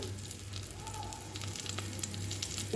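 Black cumin seeds sizzling in hot oil in a pan while boal fish curry is being cooked, a steady close crackling fry with a faint low hum beneath and no speech.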